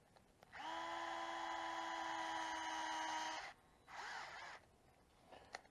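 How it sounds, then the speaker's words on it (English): An electric screwdriver tightens screws on an RC car differential case, a whirring motor buzz running about three seconds, a short pause, then a shorter second burst, fairly quiet and close. "And we're going to snug them down with a driver."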